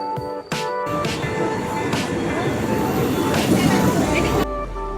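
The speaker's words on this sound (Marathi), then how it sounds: "ट्रेन आलेली इथे आता चालत्या ट्रेनमध्ये चढावं लागेल." A train pulls into a crowded Kurla station platform in Mumbai, its steady rumble and rail noise filling the scene with wheel clatter and hiss, continuous and close, until it cuts out near the end.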